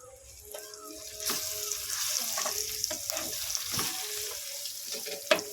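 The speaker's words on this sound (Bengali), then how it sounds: "ভালো করে মশলাটাকে আবারও ভেজে নেব" A spice mix of turmeric, coriander and chili powder fries in a pan for a brinjal dish, giving a gentle hiss with stirring scrapes and a sharp clink near the end.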